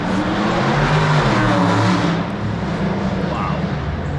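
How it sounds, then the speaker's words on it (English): Loud car engine roaring continuously close by with a strong low rumble, easing slightly toward the end, in a garage setting during motorcycle oil change work. "It's a loud car."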